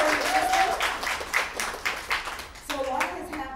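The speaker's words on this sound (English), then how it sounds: "Give yourselves a clap." Studio audience on a talk show clapping for a guest's crew, a few seconds of crisp, fairly close hand claps in loose rhythm that thin out, with a voice briefly speaking near the end.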